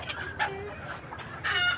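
Chickens eating jackfruit scraps give short clucks, with a sharper call near the start and a louder burst of calls at the end over a steady low background.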